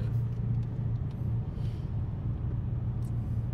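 A Ford Mustang GT drives past outside, a steady low engine rumble at moderate distance that holds evenly throughout with faint background noise.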